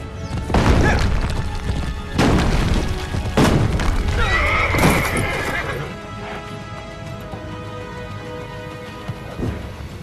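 Horse neighing in Assassin's Creed Brotherhood, a loud whinny standing out over a busy game soundscape with rumbling booms, hoof clatter and rain-like noise, with other brief bursts around it.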